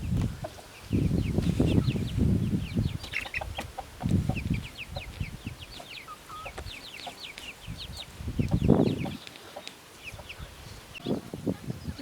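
Farm chickens clucking inside an enclosure, with repeated close clucks and cackles in bursts over a faint background of other birds, no talking.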